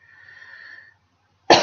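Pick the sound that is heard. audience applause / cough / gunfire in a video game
cough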